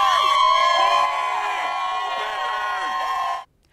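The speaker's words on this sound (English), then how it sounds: "You can see everyone waving Panthers flags and cheering as the team buses drove by." Carolina Panthers fans cheer and whoop outside a brewery near Bank of America Stadium as team buses pass at a send-off, a dense, loud crowd roar with high shouts that suddenly cuts off.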